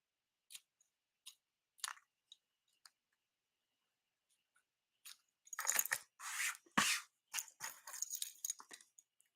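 Scissors snip and trim the edges of a glued paper ladybug craft, making scattered single clicks followed by a denser run of crisp cutting and crunching sounds, close and quiet.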